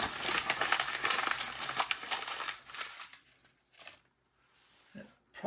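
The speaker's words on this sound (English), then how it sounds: "I like to just kind of crumple up a couple of pieces." Sheets of paper crumpled by hand to start a Vogelzang 3200 wood stove, a dense close crinkling for about three seconds, then a few sparse rustles.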